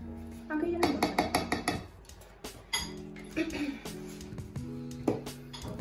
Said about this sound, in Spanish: Y lo seguimos batiendo.